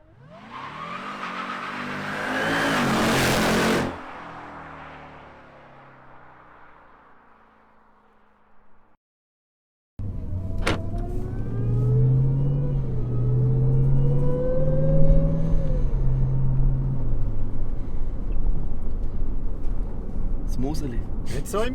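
A 825 hp Jeep Trackhawk rumbles and accelerates hard from 100 to 200 km/h, first a loud rising engine roar that drops away, then a steady, strong engine drone with rising tones and people talking over it.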